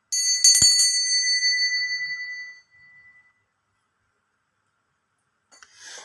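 A bell rings once to mark the start of a reading with playing cards, a bright metallic strike that rings out clearly and decays over about three seconds, followed by near silence and a faint rustle at the end.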